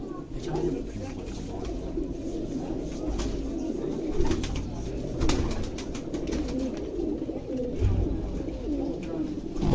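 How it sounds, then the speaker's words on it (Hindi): Breeder pigeons keep up a steady chorus of low throaty coos nearby, with occasional sharper flaps and clicks, while someone talks at times over them. "ऐसे कबूतर लाई"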